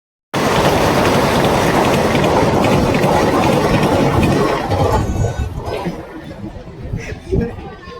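A train passes at a railway station: a loud, steady rumble starts abruptly and fills the first few seconds, then eases into quieter clatter and ambient noise. Faint voices can be heard in the background.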